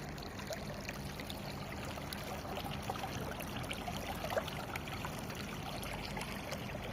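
Rainwater after a downpour in Saudi Arabia flows in a continuous, even trickle and gurgle that sounds close and moderately faint, with no voices.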